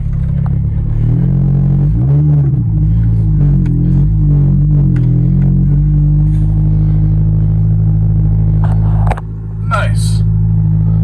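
The engine of a Ford Focus SVT, just repaired after a shifter fault, runs loud and close with a steady low idle rumble, a few revs early on and a brief dip near the end, with voices over it.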